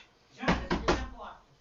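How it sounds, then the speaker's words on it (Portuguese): A door being shut in a podcast studio, a few quick thuds and knocks close by, with a faint bit of talk around it. "Tá, mas vou fechar a porta."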